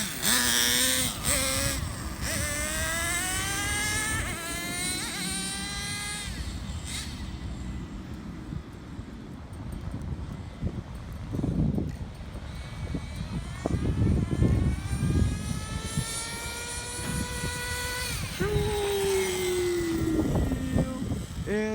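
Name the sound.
2000 Traxxas T-Maxx Pro 15 nitro RC truck engine running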